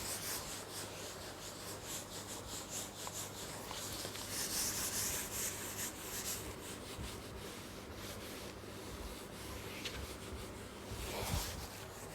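Writing is rubbed out on a classroom board with a duster in steady back-and-forth strokes, a soft continuous scrubbing heard close up, with a low hum behind it.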